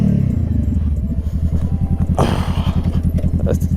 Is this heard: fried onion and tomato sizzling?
no